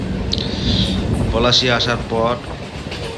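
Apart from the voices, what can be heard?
train running and slowing toward Palashi station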